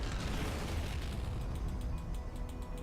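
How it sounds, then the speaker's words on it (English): Nuclear missile detonation in StarCraft 2 Nova Covert Ops, a dense, loud, rumbling boom that fills the whole span with sustained low roar and crackling debris, no voices over it. "Nuclear missile."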